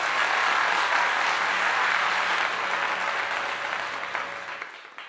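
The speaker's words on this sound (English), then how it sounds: "Round of applause for that." A dense wash of audience applause follows a commentary host's call for a round of applause, holding steady and loud before thinning and fading out toward the end.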